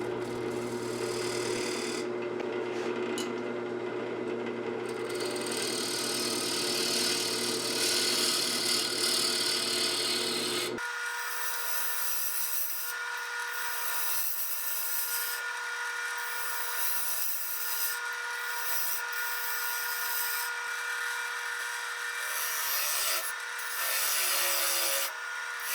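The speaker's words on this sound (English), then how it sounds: "I'm just sanding up to 500 grit before I flip it over" Sandpaper rubs against a spinning walnut and tigerwood bowl on a woodturning lathe, sanded up to 500 grit; a steady hiss with motor hum that drops to a thinner, lighter rasp partway through, continuous and fairly quiet.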